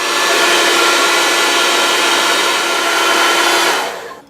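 A blower heats the nut of a 1957 Gibson Les Paul VOS guitar for removal, producing a loud, steady rushing hiss of hot air close by that holds evenly for about four seconds before cutting off.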